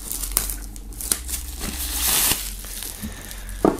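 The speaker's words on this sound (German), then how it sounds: "Als erstes werden wir mal die Folie abmachen" Plastic shrink film being pulled and torn off a peach-coloured Nimo Nimoriginal collectible box, close crinkling and crackling rustles with a louder tearing rush midway.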